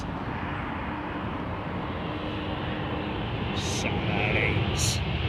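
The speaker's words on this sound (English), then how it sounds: "So we've got a line of heavies on final." Heavy jet airliners on final approach into London Heathrow, a steady broad distant roar of engines rising slightly toward the end, with a couple of brief higher hisses.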